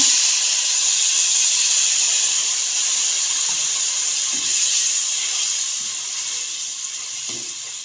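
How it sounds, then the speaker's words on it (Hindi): Milk poured into a pan of browned vermicelli for sweet seviyan: a steady, close hiss and sizzle that runs throughout and slowly fades toward the end. "यहाँ पे हम डाल देंगे दूध।"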